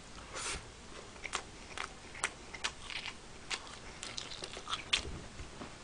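Bites and chews into a BBQ Jamaican-style whole chicken drumstick with mildly spicy sauce, giving scattered crisp crunches and soft chewing clicks at a moderate, uneven pace, close and fairly quiet.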